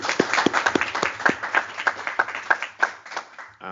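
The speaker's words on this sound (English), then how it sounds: "Another round of applause for them." A small meeting audience gives a round of applause, sparse, distinct claps in an uneven rhythm from a modest group, close and clear before trailing off.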